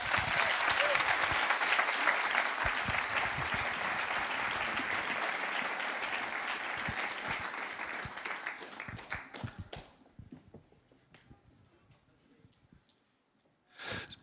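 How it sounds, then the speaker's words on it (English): A gala audience in Jerusalem claps warmly to welcome a speaker, dense sustained applause that thins into scattered claps and fades to near silence before a voice begins at the end. "And Jobs, let's please welcome him with a warm hand of applause."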